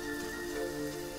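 Strips of bell pepper sizzle in a hot pan with onion, a steady, dense frying hiss that holds evenly close by without a break.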